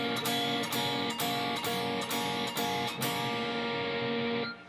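An electric guitar double-stop is picked together in slow upstrokes, ringing chords that strike several times in an even pulse before decaying at the end.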